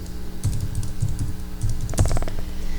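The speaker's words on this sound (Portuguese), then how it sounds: "eu só dou um clique aqui e vou digitar aula" Keys tapped on a computer keyboard while a title is entered in PowerPoint 2010, with a few scattered clicks and then a quick burst of rapid keystrokes near the end, close and clear and without voices.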